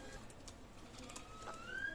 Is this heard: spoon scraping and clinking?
no